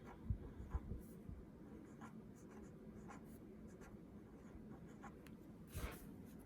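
Pencil writing a name on paper, soft close scratching strokes with a few light taps, faint and steady.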